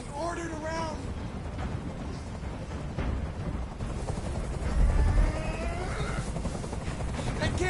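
A helicopter in the Dragon Ball The Breakers video game thrums in a continuous low rumbling whir that swells and holds, loud and steady under game voices and music.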